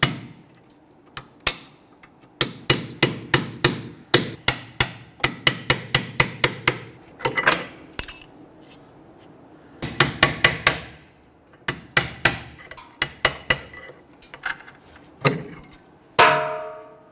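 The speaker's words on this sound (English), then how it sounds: "I'm going to use a small pry bar here with a hammer and tap these out." A hammer taps a small pry bar to drive out brake pads seized in the rear caliper bracket of a 2006-2012 Toyota RAV4, giving close, sharp metallic strikes in quick bursts separated by short pauses.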